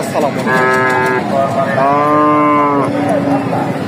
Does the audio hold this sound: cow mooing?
yes